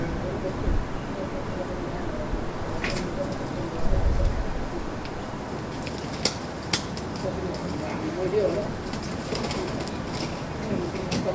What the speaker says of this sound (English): A wood pigeon is soon intimidating the newcomer.